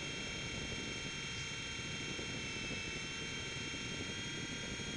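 A Blade mCX2 small RC helicopter, about 38 grams with a keychain camera attached, hovers close by indoors with a steady, high-pitched motor whine and rotor buzz that stays even and continuous throughout.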